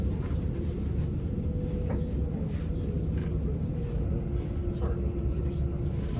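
A train rumbles steadily along on the approach to Manchester Piccadilly, with a low continuous drone, faint squeals and clicks under a passenger's occasional talk.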